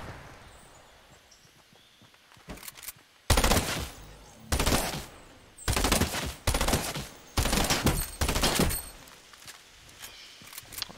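Bursts of video-game gunfire erupt in a series of loud, rapid volleys, separated by short quiet gaps, with faint background noise between the bursts.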